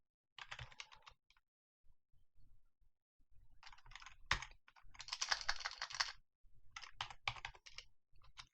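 Code is typed on a computer keyboard in quick bursts of close, crisp key clicks separated by short pauses, with one louder keystroke partway through.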